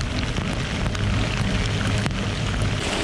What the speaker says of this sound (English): this rain's starting to get really heavy now